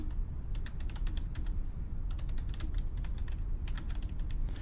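Someone types on a computer keyboard in quick bursts of sharp, light clicks over a low room hum, close by and steady, with brief pauses between runs and no voice.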